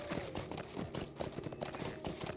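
Horse hooves clip-clopping steadily in the Lord of the Rings Online video game, a quick even trot of close, clear hoofbeats over a constant background of game ambience.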